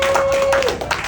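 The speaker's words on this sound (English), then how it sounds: "Round of applause for Fritz." An audience at a live pumpkin-carving demonstration claps for a volunteer, a dense, steady patter of many hands filling the room at full volume with no pause.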